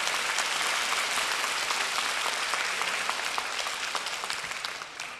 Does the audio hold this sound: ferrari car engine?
no